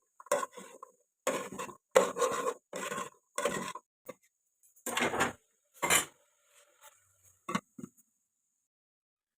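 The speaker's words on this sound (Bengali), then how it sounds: "তো এখানে আমি ধনিয়া পাতা কাটিয়ে রাখছি" Coriander leaves chopped with a knife on a board in a village kitchen in Assam: a run of distinct, close chopping bursts in irregular groups with short pauses, and no talking.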